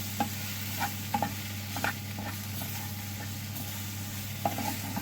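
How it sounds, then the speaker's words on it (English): Potato and pepper curry filling frying in a pan, a low sizzle with light intermittent scrapes and taps of a spoon stirring, close and quiet over a steady hum. "Give that all a good stir round."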